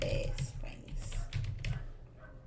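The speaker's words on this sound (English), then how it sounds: "I'm going to type in Santa Fe Springs." Typing on a computer keyboard while entering a city name into business software, a few scattered soft key taps close by against low background noise.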